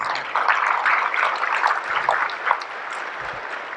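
An awards gala audience gives a brief round of applause, a dense patter of clapping at moderate loudness that thins out toward the end.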